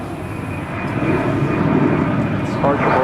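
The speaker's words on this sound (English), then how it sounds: "It's a 737-800 touching down on 36 left." American Airlines Boeing 737-800 jet touching down on a runway at Dallas-Fort Worth International Airport, a steady loud engine roar building slightly over a few seconds, with a voice talking over it.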